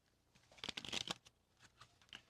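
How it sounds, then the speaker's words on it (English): Playing cards being shuffled into a deck with aces added, a quiet burst of rapid riffling flutters followed by a few softer, separate card flicks, close and without talk. "we're going to shuffle the aces into this deck"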